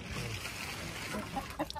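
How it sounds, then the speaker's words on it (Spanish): Chickens on a small farm, a white rooster among hens, making short clucks and calls at close range over steady rain and outdoor background noise. "ahí está el gallito, el blanco, el que anda molestando a las gallinas"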